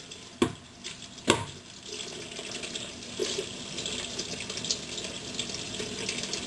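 Water runs steadily from a tap as a hairbrush is rinsed beneath it, with a couple of sharp knocks near the start.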